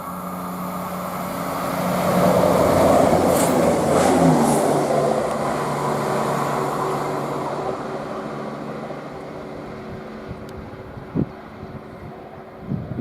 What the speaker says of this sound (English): we've got a cross-country 170 heading from Tyseley LMD to Derby